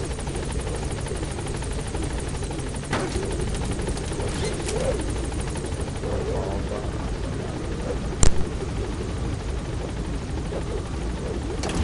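Helicopter in Metal Gear Solid V: The Phantom Pain, a constant dense rotor roar filling the whole stretch, with a sharp bang near the end.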